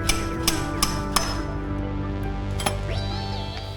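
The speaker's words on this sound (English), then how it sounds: "Then I can chisel out and start lifting up the pieces of the tile." A chisel strikes out pieces of a broken floor tile, giving a few sharp, ringing clinks spaced irregularly over a steady background hum, close and crisp, with no talk.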